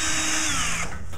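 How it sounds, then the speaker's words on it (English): A power drill bores a hole into a pumpkin for carving, its motor whining steadily then winding down near the end, loud and close with no talking. "I take a drill and like I'll drill holes like wherever I want the hair sticking out"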